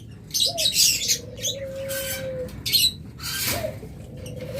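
Caged lovebirds and budgerigars kept for sale chirp close by, loud bursts of bright twittering broken by a long, steady whistled note and a few sharp calls.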